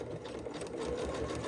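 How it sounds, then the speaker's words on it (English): A sewing machine running a zigzag stitch on leggings at the waistband, a steady fast mechanical whir with a rapid even needle rhythm, close and continuous, with no talking. "I'll be sewing right over top of it with a zigzag stitch"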